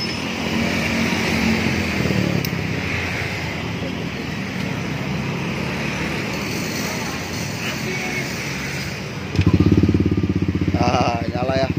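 A Yamaha Aerox scooter with a new stainless steel racing exhaust idles with a steady engine burble, then is revved up loudly near the end into a harsher, pulsing roar.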